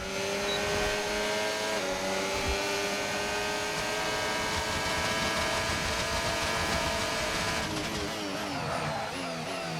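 Race car in the F1 25 video game braking hard with the tires locking up, a loud continuous engine whine with falling pitch and tire squeal, steady throughout.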